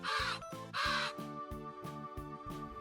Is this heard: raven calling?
yes